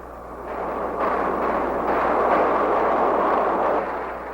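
A heavy B-52 bombing run at Khe Sanh in 1968 produces a dense, rumbling roar of bombardment that swells and holds at a loud level for several seconds before easing slightly.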